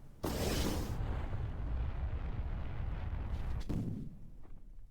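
Retro rockets fire in Kerbal Space Program, video game: a sudden loud, roaring rumble that holds steady for about three and a half seconds, then cuts off sharply into a fading tail.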